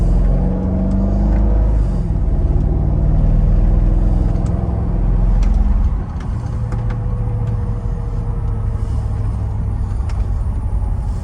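A Mercedes-Benz SL55 AMG fitted with Neomax coilovers drives along, its engine and road noise forming a steady, loud low rumble heard from inside the car. The level drops slightly partway through, and nobody speaks.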